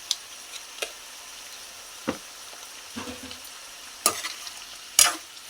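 Brinjal curry is stirred in a pan, with a handful of separate spoon scrapes and knocks spaced a second or so apart over a faint background hiss, close and otherwise quiet.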